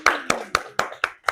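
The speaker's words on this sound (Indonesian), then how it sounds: "Beri tepuk tangan buat kita semua." Audience in a teacher-training classroom session clapping, six sharp separate claps at a steady, fairly slow rhythm, close and moderately loud with no talk over them.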